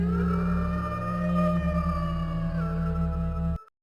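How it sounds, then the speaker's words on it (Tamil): A cartoon wolf gives a long, loud, sustained howl as a steady tonal cry over a low droning background. The howl holds for several seconds and then cuts off abruptly. "ஓநாய் சத்தமாக குரல் ஒலிக்குது"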